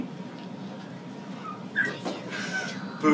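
Puppy-like whimpers and sharp little yips during a children's stage play about a poodle and her puppies, brief and faint, scattered over soft background voices.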